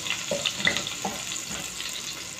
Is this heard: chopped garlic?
yes